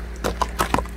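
Hooves of a horse named Mustang clopping in a short burst of three or four uneven, fairly close strikes over a steady low hum, with no voices.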